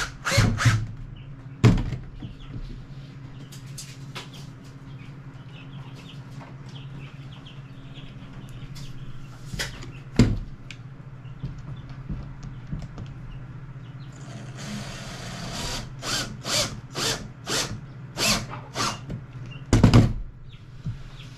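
Power drill driving screws to attach hinges to a wooden rabbit hutch roof, heard as short bursts of whirring and thunks between quiet pauses, with a cluster of rapid drill bursts near the end.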